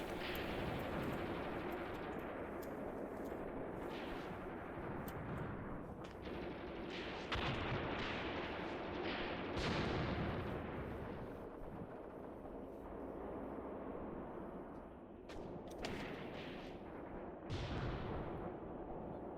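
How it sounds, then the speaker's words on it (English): Tank cannon and machine-gun fire in the war video game Graviteam Tactics: a sustained, dense barrage of rattling bursts and heavy booms that runs without pause, with sharper cracks standing out near the end. "Taking plenty of fire from our tanks and machine guns across the way."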